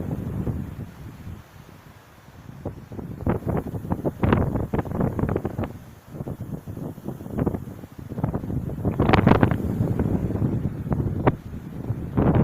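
Strong gusting wind in a hamlet during an afternoon gale, roaring and buffeting the microphone in uneven surges, with loud bursts around the middle and toward the end and rustling throughout.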